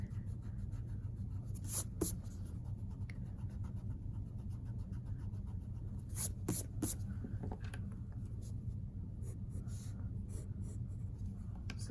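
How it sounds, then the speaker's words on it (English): Pencil lines being erased on paper while drawing boxes in one-point perspective, heard as soft, steady scratchy rubbing with a few brief sharper strokes, close and fairly quiet, with no one talking. "I can erase all of these lines that I no longer need"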